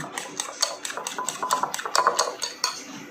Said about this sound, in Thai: จะตีไข่เปล่าๆ